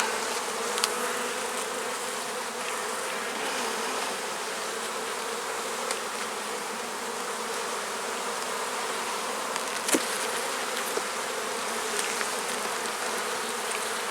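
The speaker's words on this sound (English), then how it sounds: "It looks like there's 10 frames of bees in this top box" Honey bees buzz steadily inside a hive box holding about ten frames, a dense continuous drone close by with no voices, a few faint clicks breaking the even hum.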